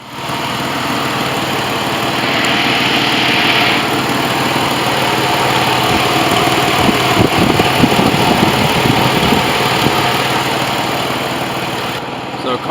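Car engine, just reassembled after crankcase work, cranking into life and settling into a steady, smooth idle, a loud continuous drone close to the microphone.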